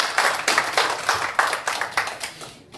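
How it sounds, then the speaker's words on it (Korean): A small gathering at a cooperative association's annual general meeting claps to welcome a young new member, a brief rhythmic burst of a few hands, fairly close and moderately quiet, fading at the end. "다시 한번 큰 박수로 이렇게 환영해 주시기 바랍니다"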